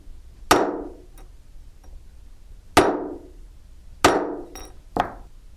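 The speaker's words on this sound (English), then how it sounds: "using my plastic mallet, I'm going to strike the setter 3 times" Three sharp strikes of a plastic mallet on a metal rivet setter, each a crisp, close knock with a short ringing decay, spaced unevenly with a small extra tap near the end.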